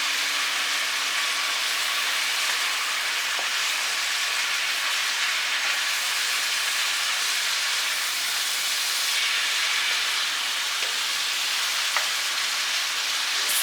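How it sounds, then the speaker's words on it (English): Goat meat browning in tallow alongside caramelizing onion, a loud, steady sizzling hiss with faint crackles that carries on evenly for the whole stretch, close by. "Sizzling is really loud"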